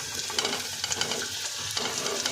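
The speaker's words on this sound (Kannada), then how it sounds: "ಇವಾಗ ಕಟ್ ಮಾಡಿ ವಾಶ್ ಮಾಡಿ ಇಟ್ಟಿರೋಂತಹ ಮಶ್ರೂಮ್ನ ಹಾಕ್ಕೊಳ್ತಾ ಇದ್ದೀನಿ" Washed, cut mushrooms tumble into a pan of frying onions, setting off a steady close sizzle with scraping stirs and soft clatter over about two seconds.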